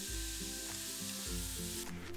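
Vegetables with chopped sweet pepper sizzle and fry steadily in a pan, a continuous close crackle with occasional stirring noises and no talking.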